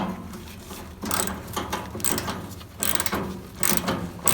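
Tight metric bolts on the bonnet of a Bolens HT23 tractor, treated with penetrating oil, are worked loose with a ratchet, giving bursts of close, rhythmic metallic clicking and grinding.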